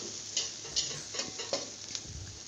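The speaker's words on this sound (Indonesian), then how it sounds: "Nah ini wortelnya saya tumis-tumis, saya masak hingga agak sedikit harum ya." Carrots being stir-fried in a pan for cah buncis: quiet sizzling with a few soft, regular scraping stirs of the spatula, close and faint, no talking.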